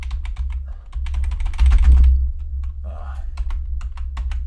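Rapid clattering keystrokes on a computer keyboard, loud and close, in uneven bursts with a brief pause partway, over a low background hum; faint speech-like sound appears midway.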